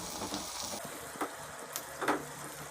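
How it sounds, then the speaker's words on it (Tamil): Onions fry in a pan for rava upma, giving a faint, steady sizzle with a few soft scrapes and small crackles. "இப்போது வெங்காயத்தை நல்லா ஃப்ரை பண்ணிக்கோங்க"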